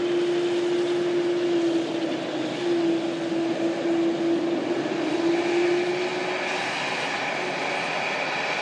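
An easyJet airliner rolls along the runway, its engines giving a steady loud whine with a sustained tonal hum that holds, then eases slightly near the end, with no talk.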